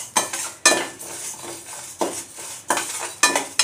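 Mappillai Samba rice being dry-roasted in a pan, with repeated scraping and rattling strokes of a utensil stirring the grains, several sharp clattering bursts in an uneven rhythm, close and fairly loud with no talking.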